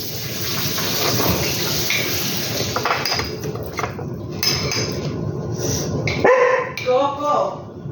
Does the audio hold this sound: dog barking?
yes